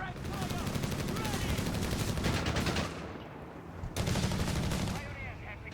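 Rapid machine gun bursts from a .30 cal in Company of Heroes 3, dense rattling fire with a short pause before another burst, mixed with battle noise and a commentator talking.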